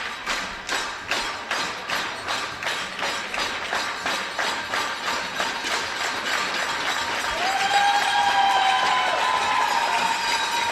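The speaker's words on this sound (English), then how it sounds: "Great to have so much noise from the crowd as well." A noisy crowd cheers and claps through an air rifle final at a junior women's European championship, with a steady run of sharp rhythmic claps in the first half. The noise swells into a sustained roar with a rising whistle near the end.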